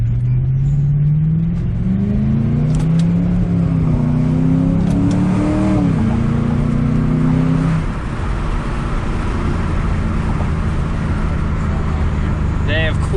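A 2006 Ford Mustang engine revs and pulls hard on an open road, its pitch climbing and then dropping at a gear change around the middle, with road rumble throughout and a voice talking over it.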